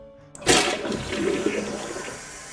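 A toilet flushes close by with a sudden loud rush of water, then keeps draining and refilling steadily, with no talk over it.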